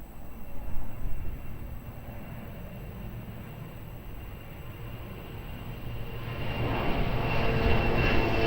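Airliner taking off from runway 02 at Lisbon Airport, a broad steady engine roar heard from a distance that swells louder toward the end, with no voices.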